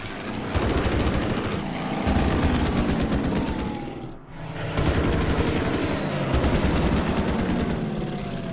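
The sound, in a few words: gunfire attack in Order of Battle Panzerkrieg video game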